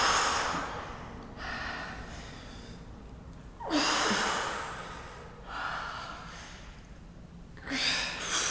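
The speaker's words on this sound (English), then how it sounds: "Exhale." Heavy, forceful exhales during a dumbbell row workout, three or four loud breathy bursts spaced a couple of seconds apart, close to the mic with quieter breathing between.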